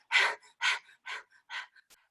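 A person imitates a dog panting with five quick, breathy huffs in a steady rhythm, close and moderately loud, with silence in between.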